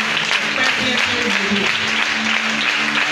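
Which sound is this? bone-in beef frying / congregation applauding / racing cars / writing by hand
congregation applauding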